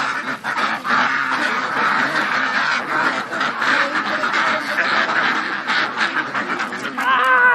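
A crowd of ducks at a duck stop in Vietnam quacks continuously, many birds calling over one another up close in a busy, overlapping chorus.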